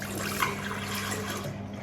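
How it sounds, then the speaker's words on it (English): Jamaican Guinness punch with nutmeg is poured back into a container, a steady close liquid splash and trickle lasting under two seconds. "We're pouring it back in here."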